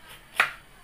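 A knife makes a single crisp chop through radish (labanos) on a cutting board in a home kitchen in Bulacan, close and brief against a quiet room.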